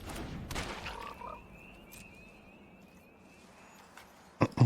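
A cartoonish frog croak from a Magic: The Gathering digital card game, heard as a brief burst near the start and a louder one at the very end over a quiet game backdrop with a thin steady tone.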